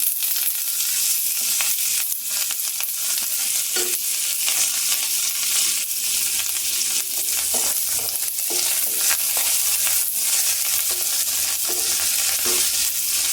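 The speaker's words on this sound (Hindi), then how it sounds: "अब इसके अंदर में हम डाल देंगे जो हमारा कड़ी पत्ता है" Curry leaves crackle and sizzle steadily in hot oil for millet poha made from kodo millet, a dense spitting fry with stirring clatter running throughout and no voices.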